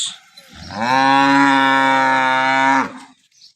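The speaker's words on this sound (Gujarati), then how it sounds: "એક આ ગાય છે આ ગાય હાલમાં દોવાઈ ગઈ છે" A cow that has just been milked gives one long, loud moo up close, sounding steady for a couple of seconds with a quiet lead-in and tail and no speech over it.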